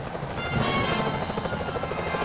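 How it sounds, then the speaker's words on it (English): A security helicopter in the Sly Cooper: Thieves in Time video game, a steady close rotor drone with a rapid chopping pulse, continuous and fairly loud without speech. "Those security choppers are bad news."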